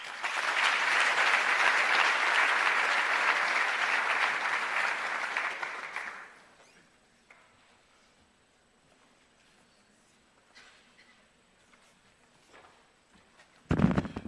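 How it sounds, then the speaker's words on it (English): Audience applause for a Minister's keynote at a science forum in South Africa: a loud, dense burst of clapping for about six seconds that fades abruptly into quiet room tone, with a brief sharp knock near the end. "Round of applause for the Minister."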